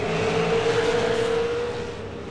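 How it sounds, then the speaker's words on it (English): A V8 Supercar with engine trouble after heavy contact in a race roars steadily at a distance, a sustained droning engine note that holds, then fades slightly toward the end. "we're hearing engine dramas for Oliver too, possibly, after that contact"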